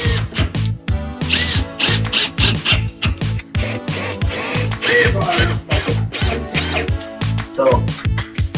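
A power tool drives quick fixings into a wall stud while a cabinet unit is fitted, loud close bursts of whirring with a rapid ratcheting clatter, repeating in short pulses with brief pauses.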